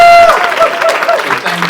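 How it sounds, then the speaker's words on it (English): Convention audience clapping at a comic convention publishing panel, a brief burst of applause with whistles and cheers poking through, close and loud at first and then settling into a thinner patter. "if we could give Ethan and Paolo, if he ever comes back, a round of applause"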